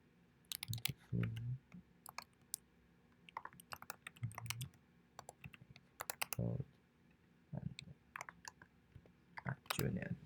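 Computer mouse clicks during a database demo, scattered single and double clicks at an irregular pace, close and quiet, with occasional soft keyboard taps between them.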